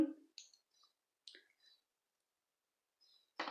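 Scissors trim a loose yarn end on a crochet bag in a quiet room: a few faint, sharp snips and clicks spaced apart, the last one a bit louder, with near silence between them.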